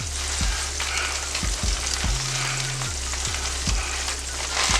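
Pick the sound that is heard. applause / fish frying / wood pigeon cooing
fish frying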